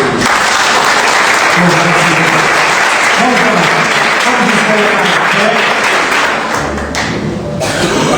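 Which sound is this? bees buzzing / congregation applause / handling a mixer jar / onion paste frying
congregation applause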